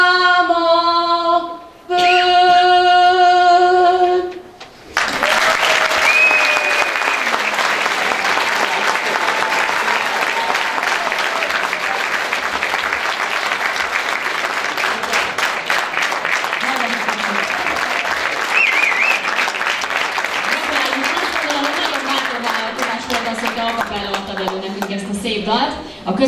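A studio audience bursts into loud, sustained applause after a sung performance on a televised singing contest, the clapping thick and continuous for about twenty seconds before tapering as people begin speaking, with the song's final sung notes just before it.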